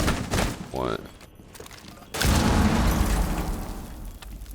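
A C4 charge detonates in a first-person shooter match: a loud, sudden blast followed by a long rumbling roar that fades slowly, with game sounds and brief voice-like tones before it.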